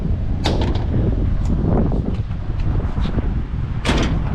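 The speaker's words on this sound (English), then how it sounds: "now we got it to where it closes and it latches just fine." A Honda car hood is lowered and latched, giving a few sharp metallic clunks over loud, rumbling background noise.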